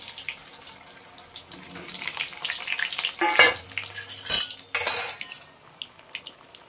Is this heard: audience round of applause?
no